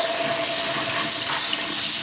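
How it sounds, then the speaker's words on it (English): Running water from a tap streams steadily over soaked pinto beans in a colander, a close, even broadband rush that stays constant throughout with no talking. "and rinse them very well."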